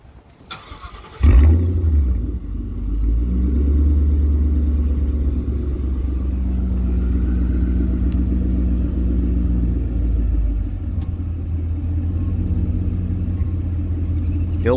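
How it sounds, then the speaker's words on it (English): A car engine cranking and catching after a Seafoam induction cleaning, then settling into a loud steady rumbling idle heard close by for the rest of the stretch, with no talking. "I'm gonna have the missus start the car up while I look."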